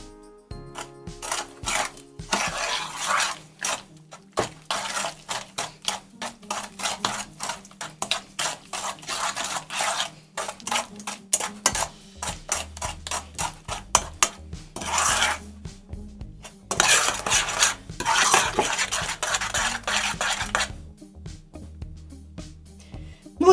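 A spoon mashes oatmeal cookie dough ingredients with raisins in a bowl, making close, repeated scraping and rasping strokes in an uneven rhythm with short pauses, alone without talk.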